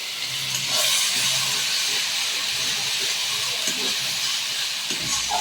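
Cashew, raisin, poppy seed and mustard-poppy pastes hiss loudly in a hot pan for a prawn malai curry, a dense, steady, close sizzle with slight swells and no voices.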